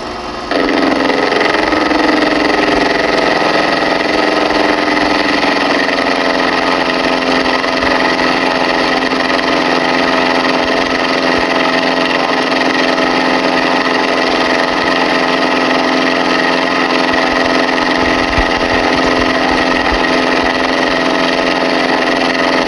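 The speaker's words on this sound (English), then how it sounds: "an idea of what this machine actually sounds like as it's cutting" A metal-cutting machine takes a substantial cut of about fifty thousandths of an inch on a squareness comparator part, a loud, close, continuous whining drone with steady tones holding throughout.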